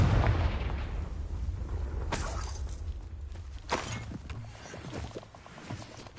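A fiery blast spell goes off in a Harry Potter game, a sharp burst followed by shattering crackles and a second impact, set against rumbling low ambience and scattered thuds.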